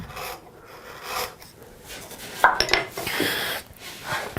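A veiner carving chisel, slightly dull, cuts into wood in short scraping, rasping strokes, close and fairly quiet, with a few sharper scrapes near the middle and no speech.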